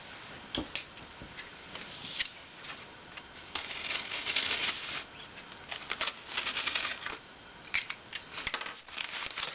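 A knife slices and snips through plastic packaging on watercolor supplies, producing close, crisp clicks and scraping cuts in irregular bursts, with no voices.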